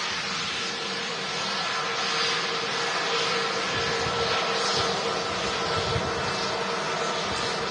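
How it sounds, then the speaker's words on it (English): An airliner arriving on a flight from Dubai, its engines a steady broadband roar at moderate distance, holding even throughout with no talking. "Flight 17 from Dubai. Flight time of around 7 hours 20 minutes for this aircraft."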